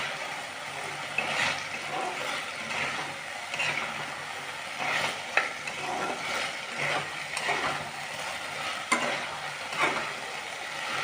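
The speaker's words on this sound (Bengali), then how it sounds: "এই মশলাটা কষানো হচ্ছে, তার উপরে দেখো আমি সামান্য অল্প একটু গোবিন্দভোগ চাল দিয়ে দিয়েছি। এবার এটাকে ভালো করে নাড়ব।" Masala with a little gobindobhog rice being stirred and fried in a pan, a steady soft sizzle under repeated scraping strokes of the spoon at close range.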